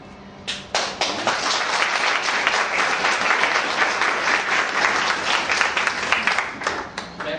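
Audience applause at a computer donation ceremony for a blind people's NGO, starting abruptly and holding as dense, steady clapping before tapering off near the end.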